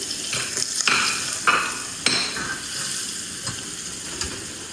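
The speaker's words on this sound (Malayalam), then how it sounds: "ബട്ടർ അതിലേക്ക് ചെറിയൊരു പീസ് ബട്ടർ ഇട്ടാ മെൽറ്റ് ചെയ്യുന്നു" A small piece of butter melts in a hot pan while dinner is cooked, giving a soft steady sizzle broken by a few sharp stirring scrapes and clinks of a utensil against the pan.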